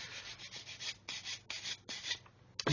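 Sanding sticks rubbing along the seams of a Revell 1/144 Apollo Saturn V plastic model kit, heard as soft, close back-and-forth scratchy strokes in a steady rhythm with short gaps between passes.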